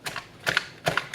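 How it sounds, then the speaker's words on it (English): A knife chopping fresh cilantro on a board: a few crisp, separate taps spaced unevenly, close and clear with no talking. "Let me chop that cilantro."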